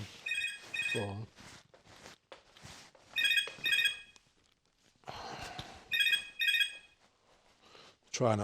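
A telephone rings nearby in repeated bright double bursts, with gaps between rings and people talking in between.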